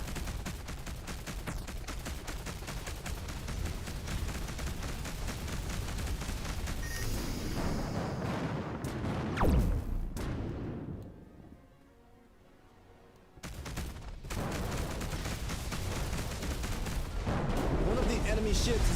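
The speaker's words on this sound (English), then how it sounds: "One of the enemy ships has been destroyed." Space combat in the game Between the Stars: heavy, rapid gunfire bursts pound continuously, broken by a sharp blast as an enemy ship is destroyed, a brief near-silent lull, then the barrage resumes loud; a voice speaks amid the fighting.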